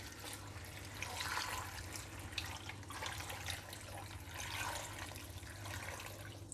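Water pours into an Instant Pot with pork ribs, carrot, winter melon and red dates, running and splashing steadily at low volume, a continuous watery rush with no voices.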